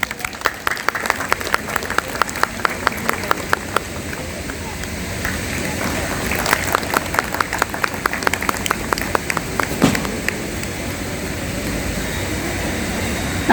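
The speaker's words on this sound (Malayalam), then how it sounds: "ഒരു കയ്യടിയാവാം." An audience at a community association meeting in Delhi applauds as two women's group officials are called up to the stage, with steady rhythmic claps over room noise and faint talk underneath.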